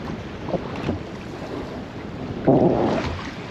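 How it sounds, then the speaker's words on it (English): Steady wind buffets a fishing boat drifting slowly over a wreck at sea, a broad rushing hiss with gusty swells and a stronger blast near the end, close and continuous with no voices. "I've just got the wind pushing us along at about half a knot"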